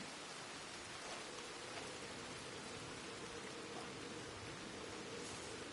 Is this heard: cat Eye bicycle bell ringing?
no